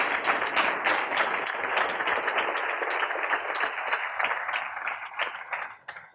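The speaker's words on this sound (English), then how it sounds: "so let's give a round of applause" At a health sciences center address, an audience gives a round of applause for the staff who stood up, individual claps distinct within a lively crowd before the sound tapers off at the end.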